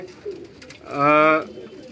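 Firozpuri pigeons on a rooftop coo through a mid-clip burst of loud, drawn-out tonal calling, with softer background murmuring and faint voices around it.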